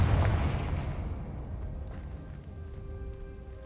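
A Confringo spell blast in Hogwarts Legacy goes off as a loud, booming explosion that hits hard at once, then rumbles and decays over several seconds into a fading tail.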